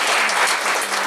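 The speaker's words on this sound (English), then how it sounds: "They all need a round of applause." A hall audience at a university inaugural ceremony breaks into sustained, dense applause that holds steady and loud throughout the short stretch.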